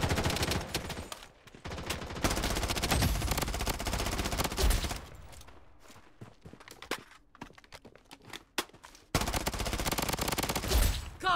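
Sustained bursts of automatic gunfire in the shooter game Blood Strike, loud and close, breaking off into scattered single shots and clicks before a final heavy volley resumes.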